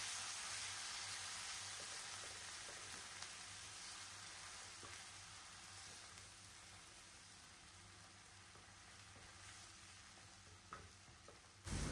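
Masala paste fries on a low flame, giving a faint, continuous soft sizzle with occasional light stirring scrapes throughout.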